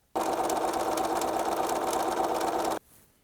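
A sewing machine stitches a buttonhole zigzag at a tight stitch, running loud and steady for about two and a half seconds before stopping abruptly, with nothing else heard.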